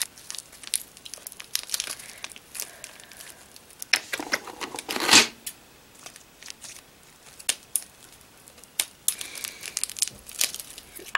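A taped-up toy blind bag is torn open with bursts of crinkling plastic and ripping tape, close and uneven, with quieter handling in between.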